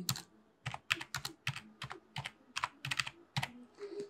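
Computer keyboard keys tapped in quick irregular bursts while a password is entered, the clatter close and clear with brief pauses between groups of strokes and no voices.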